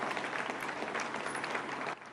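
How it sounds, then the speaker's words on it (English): A crowd applauds steadily at the Wootton Bassett repatriation of a fallen soldier, a sustained wash of clapping from many hands that holds level, then drops slightly at the end. "And finally, applause."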